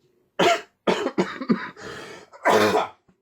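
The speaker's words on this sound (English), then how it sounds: "I'll do my best not to cough through these." A series of sharp, close coughs, five or six bursts in quick succession with a throat-clearing quality, no talking.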